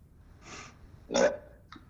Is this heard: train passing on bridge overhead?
no